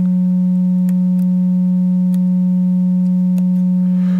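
A steady, low sine test tone hums without a break from an amplifier output, with faint overtones giving it a slightly distorted, buzzy edge, and a few soft clicks.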